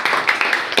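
Students clap in a classroom, giving a brief burst of quick, fairly even claps at moderate loudness with no talking over it.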